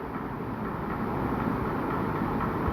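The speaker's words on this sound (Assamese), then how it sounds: "এয়া ষ্টাৰ্ট হ'ল ট্ৰেইনখন," A small park ride train in Nehru Park rumbles steadily as it starts and moves along, giving a continuous, fairly loud rolling noise with no clear pauses.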